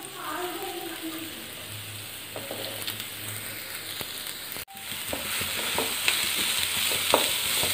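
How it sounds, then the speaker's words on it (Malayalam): Bitter gourd, shallots and ginger fry in hot coconut oil, a steady sizzle with scraping stirring strokes and a brief dropout midway before the frying resumes louder and close. "ഇനി നമുക്ക് ഇതിനകത്തേക്ക് പാവയ്ക്കും ചുമന്നുള്ളിയും ഇഞ്ചിയും കൂടി ഇട്ട് കൊടുക്കാം."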